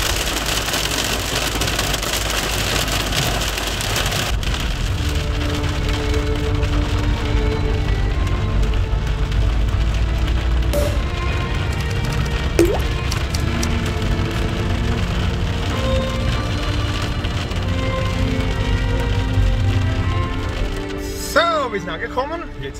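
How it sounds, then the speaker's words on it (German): Hail pounding down during a heavy hailstorm near a winery, a dense, loud, unbroken rattle and patter on a hard surface that holds steady for about twenty seconds before tailing off. "jetzt hagelt"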